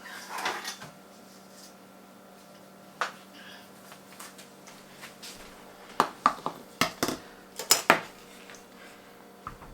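Pear preserves, savory with garlic and thyme, being ladled into canning jars, sharp scattered clinks of ladle and glass jars in a quiet kitchen, clustering into a quick series near the end.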